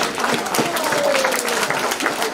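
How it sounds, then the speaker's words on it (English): Parents at a primary school grade 4 meeting clap together, a moderate, even patter of applause from a room-sized crowd, with a faint voice running through it. "Let's just give our parents a clap."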